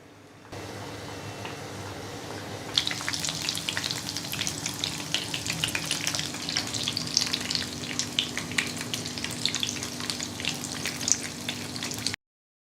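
Kababs drop into medium-hot oil and fry. After a brief quiet start, a dense, bubbling crackle and hiss erupts and stays loud and steady until it cuts off, with no voices.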